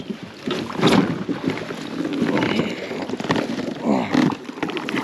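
Kayak paddle strokes splash and dip rhythmically in the water, heard up close while moving upstream on a small river, with wind buffeting the microphone between strokes.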